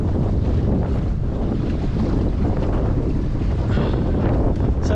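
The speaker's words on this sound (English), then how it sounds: "I'm having to use the engine on almost full power to get us anywhere" Lugger motoring from a mooring on almost full power in heavy wind and big waves, a constant low engine drone buried under loud wind buffeting on the microphone and rushing water, with no talking.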